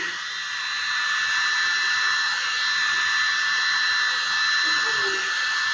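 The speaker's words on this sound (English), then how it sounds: "probably shouldn't have used the hairdryer because it's only a small area really" A steady, close hair dryer blows on acrylic pour paint with a constant high-pitched whine and airy rush, running continuously without a break.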